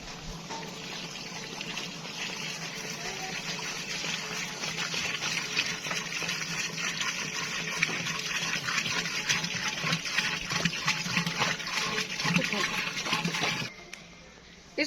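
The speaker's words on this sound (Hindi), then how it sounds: "अब इसमें पानी डालूंगी मैं।" Water is poured into a pot of chicken chana pulao, a steady close gushing stream that runs for most of the time before stopping abruptly near the end.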